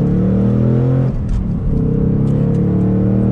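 A new manual Ford Mustang Mach 1 with the handling package sets off in track mode: a loud, close engine drone builds steadily, dips briefly during a gear change, then resumes its strong rumbling pull.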